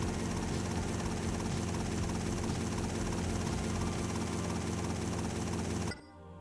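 A helicopter in the video game GTA Vice City Stories, a loud continuous rotor and engine drone that cuts off abruptly near the end, leaving quieter background sound.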